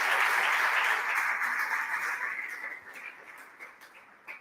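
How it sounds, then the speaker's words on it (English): Audience applause welcoming a guest speaker at an expert talk, a dense wash of clapping that starts loud and steadily fades out over a few seconds, with a few scattered final claps. "Please give a big round of applause."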